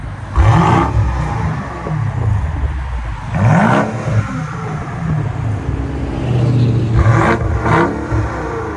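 A loud straight-piped BMW SUV engine revs repeatedly, rising and falling in sharp bursts with a deep, aggressive exhaust note, close by.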